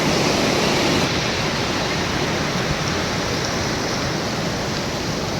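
The Kali river rushes hard past a waterfall, its spray making a dense, unbroken roar that stays loud and close from start to finish, with no voices.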